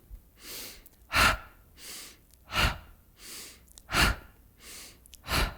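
Slow, steady breaths in and out, each exhale a soft airy "ha" through the mouth, repeating calmly and close by with no talking.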